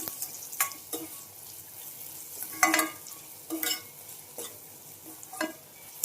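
Cooked rice with salt and garam masala is stirred in a pan for capsicum masala rice, producing several spaced scraping strokes against a quiet background.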